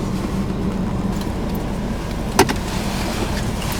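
A car's engine hums as a steady low rumble, with one sharp click about midway through and no talking.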